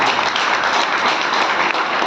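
An audience claps along at a Jain monk's sermon in Bangalore: dense, steady applause from many hands, loud and unbroken throughout.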